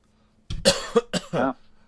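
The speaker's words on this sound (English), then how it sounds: "there's that cough I was telling you about" A short fit of several close, sharp coughs, fairly near, with quiet before it and nobody talking.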